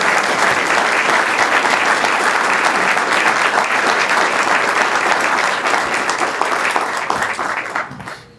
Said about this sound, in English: And now the audience, if you give them a big round of applause